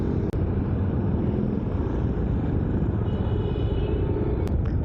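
Street traffic in Dipolog City on a drizzly day, a steady broadband rumble of passing cars and engines running throughout without a break.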